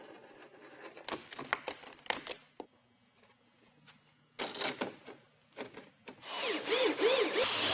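A power drill drives screws through ridge cap barrels on a metal roof in several short bursts with pauses between, ending in a longer whining run.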